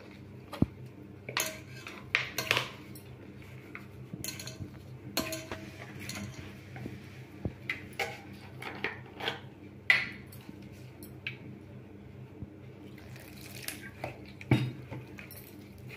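Rice flour dough for ariselu is mixed by hand in a bowl, giving irregular soft scrapes, light clinks and pats against the dish, close by, with quiet pauses between.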